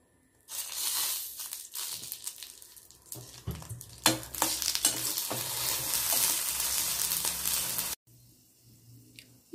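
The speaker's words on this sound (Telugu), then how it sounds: "వెల్లుల్లి కూడా వేసి వేయించుకున్నాము అన్నమాట" Green chillies and garlic fry in oil in a home kitchen for radish chutney, a steady sizzle with stirring scrapes and clinks of a spoon against the pan, close and fairly loud, briefly pausing near the end.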